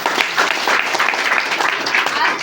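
Gathered crowd claps loudly and continuously for a few seconds in a dense, steady burst of hands, close and full throughout.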